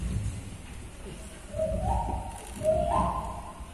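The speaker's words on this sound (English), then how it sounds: "You look out and you hear birds." Birds call outside near a college campus with trees, two soft hooting, cooing notes rising over a low, steady outdoor rumble.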